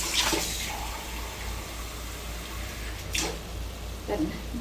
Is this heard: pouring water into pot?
yes